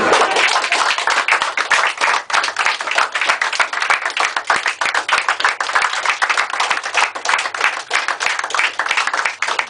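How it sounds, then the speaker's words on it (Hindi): A large audience claps loudly and densely, a continuous burst of applause sustained throughout without pause. "तालियां बजाएं।"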